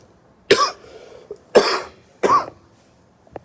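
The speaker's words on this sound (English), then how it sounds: "Y'all got me coughing over here." Three harsh coughs come close together, each a short loud burst, in an otherwise quiet setting.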